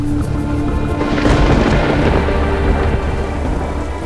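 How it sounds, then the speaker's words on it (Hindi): Heavy rain pours steadily during a storm at a wedding, with deep thunder rumbling and swelling through the middle before settling back under the constant downpour. "मौसम देखकर लग नहीं रहा कि बारिश रुकेगी"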